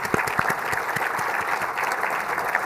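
A seated audience gives a round of applause at a school district special announcement, with distinct individual claps standing out within a steady, fairly close patter.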